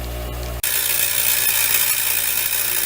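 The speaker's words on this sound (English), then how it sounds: "Now I'm going to make some sparks just because it looks good on video." A power tool grinds metal and throws sparks while a base frame is built, starting abruptly after a low hum and holding as a loud, steady, harsh grinding whine close by, with no talk.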